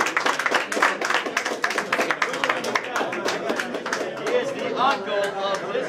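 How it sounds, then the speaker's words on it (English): A crowd at a boxing weigh-in applauds for Brazilian boxer Rosalino Popo Freitas, with dense, steady clapping and chatter mixed in throughout. "ladies and gentlemen, round of applause, Rosalino Popo Freitas"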